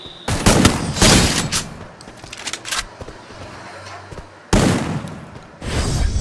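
Double-barrel shotgun blasts in a video game match, fired at short range: several loud, close booming bursts with gaps between them and quieter gunfire and rumble in the background.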